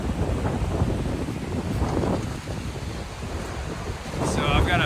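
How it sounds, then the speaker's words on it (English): Steady wind buffets the microphone beside a river in the Ozarks near Murray Falls while overlanding, a loud continuous rumble with gusts, under faint talk. "You can kind of see it's little windy up here with the river."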